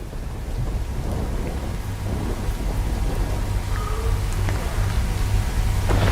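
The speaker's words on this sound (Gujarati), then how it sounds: "સતત વરસતા વરસાદને કારણે ખેડૂતોમાં ભારે ચિંતા પણ વ્યાપી ગઈ છે" Steady, dense downpour of heavy rain hissing continuously, with a low rumble underneath and occasional nearby drips; no voices.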